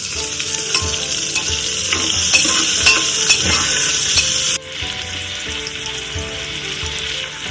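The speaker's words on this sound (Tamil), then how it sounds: "இப்போ கட் பண்ணி வச்சிருக்கேன் ஆனியன் வந்து போட போகிறேன்" Sliced onions frying in a pan for a double beans gravy, a loud continuous sizzle with stirring and utensil scrapes close up, dropping briefly partway through before the frying carries on.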